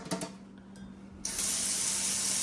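Water gushes from a faucet into a dual sink in a house. A few quiet handling clicks come first, then the tap opens and a loud, steady hiss of running water fills the rest.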